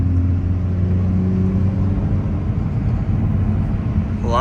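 A BMW M340i on drag radials cruises along with a loud, steady close engine drone and road rumble, the note holding even with a faint rise at the end.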